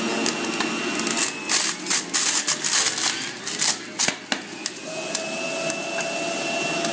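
A Breville BJE200XL 700-watt compact juicer grinds a load of greens. Loud, close crunching and shredding bursts come in rapid clusters over the motor's whine, which then settles back to a steady hum.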